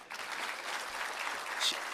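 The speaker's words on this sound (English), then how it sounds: "Let's give our MC a round of applause." Steady applause from an audience at a government launch event honouring the MC, a dense wash of claps lasting throughout without pause.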